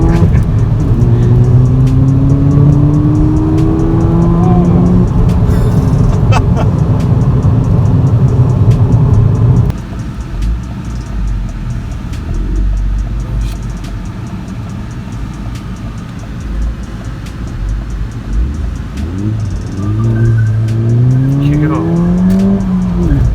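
A Ford Fiesta ST hatchback accelerates hard with a loud, rising engine note through the gears and a clear gear change partway through, close and continuous throughout, with occasional voices inside the car.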